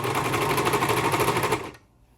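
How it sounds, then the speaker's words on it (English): A serger runs steadily on a cloth diaper near the end of a serged seam by the elastic, a dense mechanical whir with rapid stitch pulsing that stops abruptly after about a second and a half. "I'm towards the end of the back diaper where the elastic ends. And here's my blue mark where my serging ends. So I'm just going to finish that up"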